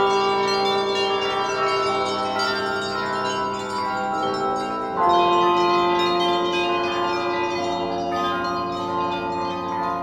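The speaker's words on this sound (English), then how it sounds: "you can actually use the bells all by themselves" Bright, shimmering bell tones ring in layered, sustained chords from a free plugin's Vendor Bells virtual instrument preset; a shift in harmony midway, steady and moderately loud with no talking.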